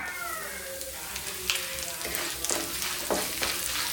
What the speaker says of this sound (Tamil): இந்த சூட்லேயே வந்து தேங்காய் பெருங்காயத்தூள் இது ரெண்டையும் வதக்கி எடுத்துக்கலாம்